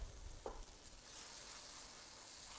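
Low, steady sizzle of corn fritters frying in a pan, quiet and continuous, with a faint stir or scrape near the start and no talking.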